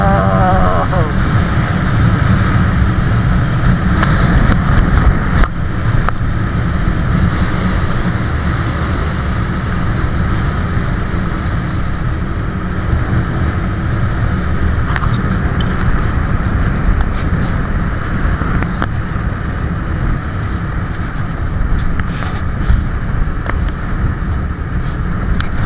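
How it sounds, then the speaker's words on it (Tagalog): A motorcycle ridden at night through Bukidnon, Mindanao, carries a steady engine drone for the whole ride under heavy wind rush buffeting the microphone, with occasional faint voices. "sobrang lamig kasi at motor lang kami gamit namin si Roxy."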